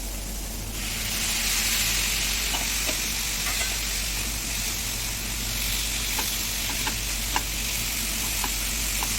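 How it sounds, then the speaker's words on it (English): Cashews and tomatoes fry in a pan for Mughlai malai kofta, a steady close sizzle with occasional small pops and stirring ticks running throughout. "We'll again fry them for 3-4 more minutes."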